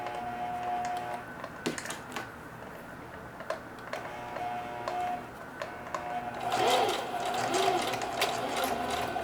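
Domestic sewing machine stitching denim: a steady mechanical whir with regular ticking clicks runs close and fairly quiet, swelling louder near the end as the machine speeds up.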